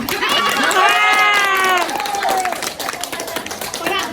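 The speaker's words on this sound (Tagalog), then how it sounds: "Palakpak!" Party guests on a Christmas Eve group tour in Hatyai, Thailand clap and cheer together, a dense crowd sound mixed with excited voices and shouting throughout.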